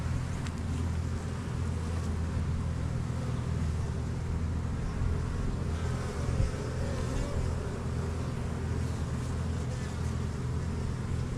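Honeybees at an almond pollination yard drone steadily around their hive, a dense, low, continuous buzz of many insects at moderate volume with no breaks.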